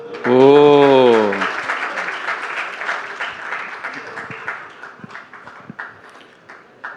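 Audience applause breaks out at a live interview event with Swami Ramdev, a dense crackle of clapping that swells after a brief tonal cheer, then thins and fades toward the end.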